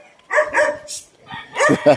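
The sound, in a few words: dogs barking on a street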